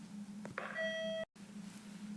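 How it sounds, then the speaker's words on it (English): A school bell rings faintly in a classroom, one brief electronic chime tone holding for about half a second over a steady background hum before cutting off. "Ooh, bell rang."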